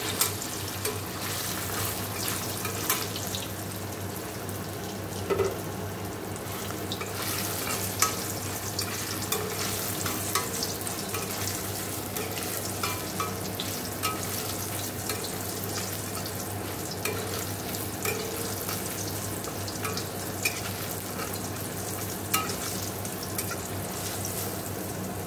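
Paneer cubes lightly frying in a pan, a steady close sizzle running throughout with scattered scraping and stirring clicks, no voices.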